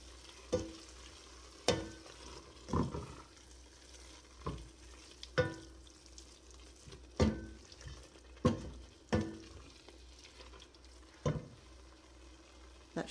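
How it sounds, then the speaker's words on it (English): Carrot cake jam mixture being stirred in a pot, with a spoon scraping and knocking the sides about once a second at a soft, even pace over a quiet bubbling simmer. "Stir that up in there."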